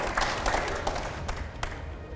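A studio audience at a televised Hindi talk show gives sustained applause, steady and fairly loud throughout, with a few sharper individual claps standing out near the end.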